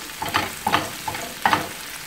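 Bell peppers sautéing in a pan are stirred in four distinct scraping strokes, each brushing over a soft, close frying sizzle.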